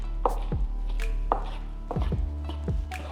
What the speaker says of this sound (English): start in for one section of the rice with the spoon to separate the rice, like you're cutting it with the spoon.